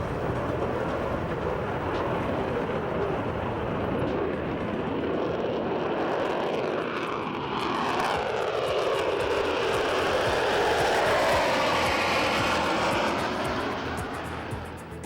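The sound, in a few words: Concorde jet engines during takeoff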